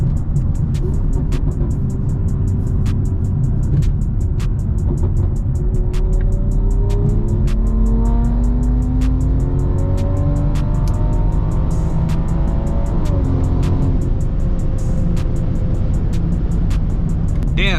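A custom-tuned BMW M340i accelerates with a loud exhaust, its engine note climbing steadily through the gears in a constant, close roar.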